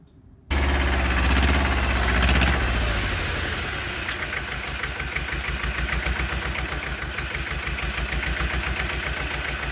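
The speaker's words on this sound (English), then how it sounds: "Is that a cool sound or what? That diesel tractor." A Bolens G194 diesel tractor engine starts abruptly and settles into a steady, loud, close idle with a rhythmic diesel knock, running alone without voices.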